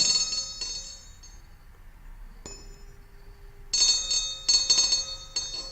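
A vibrating tuning fork is held near a container, giving clear sustained high ringing tones that fade, then fresh struck rings with a metallic shimmer near the end; no voices.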